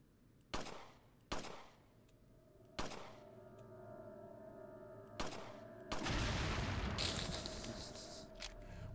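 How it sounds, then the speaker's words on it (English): Gunfire in Resident Evil 4 aimed at an enemy's dynamite: several sharp, separate shots a second or so apart, then a louder, sustained blast-like roar that lingers to the end. "Can I shoot his dynamite?"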